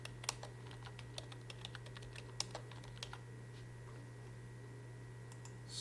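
Scattered keystrokes on a computer keyboard, quiet and close, tapping in short irregular bursts over a low steady hum.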